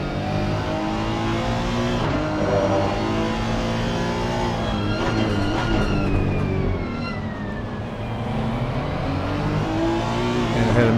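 A race car at Circuit of the Americas, heard from the driver's seat, its engine roaring loud and close throughout, revving up and down through the gears with a brief dip before building again.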